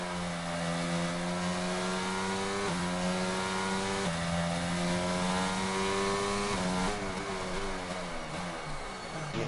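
Race cars in a racing video game at Monza roar into the pit lane with loud, sustained engine tones. The pitch drops and climbs as gears shift, and several cars overlap close by without a break.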